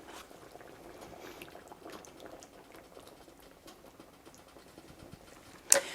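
A cup of heavy cream poured into tomato sauce simmering for Cajun sausage pasta, a soft bubbling and patter that carries on quietly, ending in a sharp clatter.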